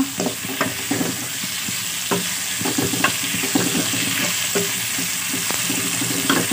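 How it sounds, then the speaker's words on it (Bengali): Potatoes fry in a pan with turmeric under a constant close sizzle, while a spatula knocks and scrapes through them in quick, repeated stirring strokes. "আলুটা দিয়ে আমি ভালো মতো নেড়ে চড়ে দিয়ে দিচ্ছি"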